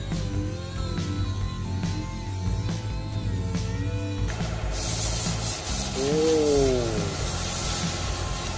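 Body putty is sanded hard on a cracked FRP camper repair: after a stretch of muffled workshop noise, a close, continuous abrasive rasping begins and carries on to the end.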